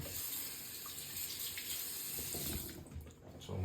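Steady running tap water splashes over an Indonesian natural honing stone as it is rinsed, a continuous close hiss with a brief dip near the end.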